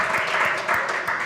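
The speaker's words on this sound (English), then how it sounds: "Clap it out." A crowd at a community author event in Bexley breaks into brief, busy clapping, a dense, even wash of many hands with no break.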